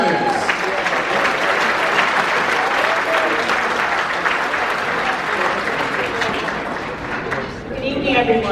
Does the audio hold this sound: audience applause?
yes